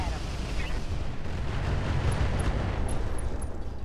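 Weapons fire at an enemy mech in a battle video game, a dense continuous rumble of shots and blasts with faint electronic blips near the end.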